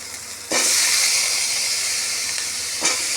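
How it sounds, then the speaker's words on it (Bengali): Potatoes hit hot oil in a pan for a crab and bottle gourd curry, starting with a sudden loud hiss that settles into a steady, bright sizzle, with a brief flare-up near the end. "আলুটা একটু কষিয়ে নেব।"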